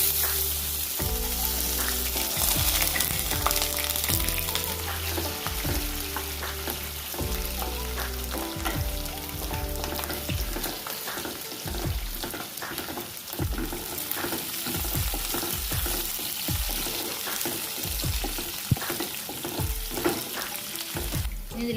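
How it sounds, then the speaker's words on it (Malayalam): Garlic and ginger fry in hot oil with mustard seeds for a dry mango pickle: a loud, steady, close sizzle with repeated stirring scrapes and small pops throughout. "ഇനി ഇതിലേക്ക് നമുക്ക് വെളുത്തുള്ളി ഇഞ്ചി ഇട്ട് കൊടുക്കാം."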